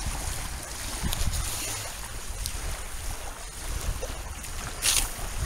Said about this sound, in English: You can hear the waves lapping in here.